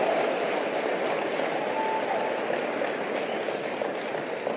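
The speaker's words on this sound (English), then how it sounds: "Give her a round of applause." Sustained audience applause filling the room at a motivational speaking event, a dense, steady wash of clapping from a large crowd at constant loudness.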